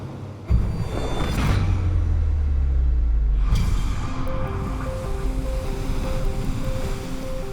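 Heavy waves crash against a rocky outcrop off the south coast of England, a loud surging roar that breaks and washes back, with a second crash midway and a faint rhythmic beeping later.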